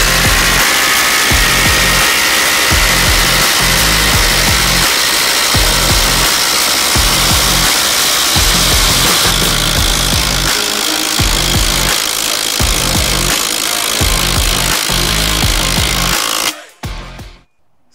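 CAT graphene 18V and Milwaukee M18 Gen 4 impact drivers driving 8-inch screws, a loud, continuous rapid hammering rattle lasting many seconds before stopping abruptly near the end.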